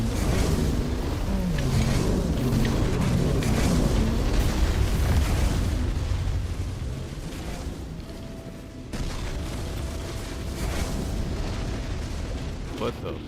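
Explosions rumble in the fantasy video game Tainted Grail, heavy continuous booming and crackling mixed with fire and wind, loud for several seconds, then dipping before resuming, with a player talking over it.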